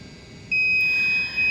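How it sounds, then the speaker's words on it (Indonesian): A homemade high-temperature alarm circuit sounds once its thermistor is heated with a lighter, switching abruptly from quiet hum to a steady, piercing electronic tone that holds close and loud. "Ya, alarmnya akan bekerja. Dimana di sini si rangkaian alarm ini akan berosilasi dalam frekuensi yang kita harapkan tadi sesuai dengan perhitungan."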